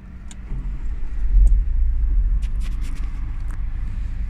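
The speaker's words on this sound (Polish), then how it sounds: "Dobra, a więc odpalamy silnik." An Opel car engine turns over and catches, the starter's crank giving way to a steady low idle rumble, close and fairly loud with a few light clicks and no talk.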